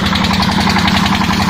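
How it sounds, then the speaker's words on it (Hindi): A newly installed borewell water pump motor on a farm field, started through a starter, runs with a loud, steady, close-up droning hum and rapid pulsing throb, with no voices. "ये कल बोरिंग लगवाया था हमने, और एक हाथ का प्रेशर दे रही है हमारी मोटर"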